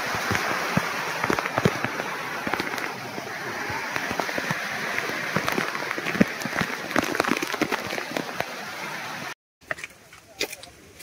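Monsoon rain falling at Girnar near Junagadh, a steady broadband hiss with scattered sharper drops that runs continuously for about nine seconds before a brief cut, followed by a few softer patches.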